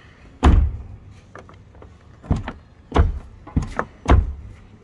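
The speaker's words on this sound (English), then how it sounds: "See how the door closes." Car doors on a Toyota GR86 fitted with door stabilizers swing shut in a series of solid, close thunks, about five closings in quick succession with nobody speaking.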